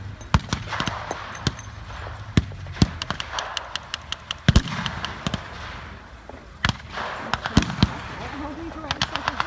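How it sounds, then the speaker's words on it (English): Sustained bursts of Bren machine gun fire at a World War II Normandy battle reenactment, sharp rapid cracks and pops repeating across the whole span, some close and loud, others more distant, under a steady outdoor background. "It's constant fire from the machine guns, from the Bren guns."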